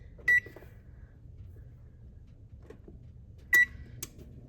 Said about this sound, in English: So first I'm gonna start by preheating the oven to 350 degrees.